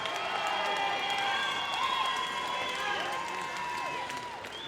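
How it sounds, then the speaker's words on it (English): Arena crowd at a mixed martial arts event, Shamrock Ambush Fight 10, applauding and cheering both fighters after the bout, steady loud clapping and shouts filling the hall with whistles on top. "let's give both of these fighters a big round of applause"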